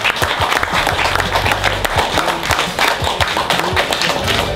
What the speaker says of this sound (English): give a big round of applause sa ating founder